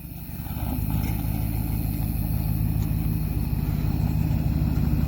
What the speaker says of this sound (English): Just put a new exhaust on her truck.